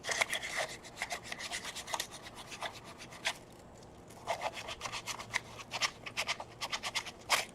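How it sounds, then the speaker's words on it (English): Sandpaper rubbed back and forth over a sharp resin edge on a heat gun, producing rapid rhythmic rasping strokes up close that pause briefly midway and then resume, with no voices. "I got some sandpaper."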